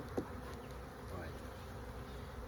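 A dense, steady buzz of many bees in a hive fills the air nearby, a constant droning hum with faint individual wingbeats passing close.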